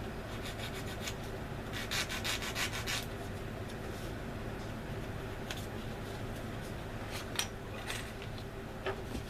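Plastic Airfix 1/72 Avro Shackleton kit parts being sanded to clean off flash, brisk close rubbing strokes in quick bursts, then slower intermittent scrapes, with no voices.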